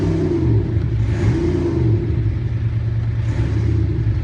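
A BMW's active sound system plays a synthetic engine note that revs, a deep rumbling drone rising and falling over a few seconds, loud and continuous with no speech.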